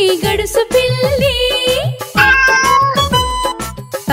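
A cat meows repeatedly within a Telugu children's rhyme, loud, bright, tuneful cries in quick succession with musical backing; the meows may be sung or voiced imitations.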